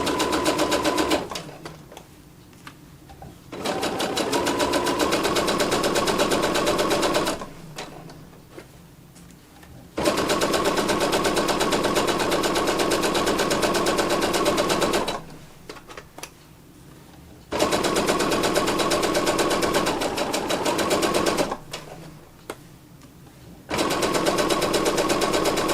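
An electric sewing machine stitches scrunchie fabric in several long, steady whirring runs, each lasting a few seconds and separated by short quiet pauses, loud and close.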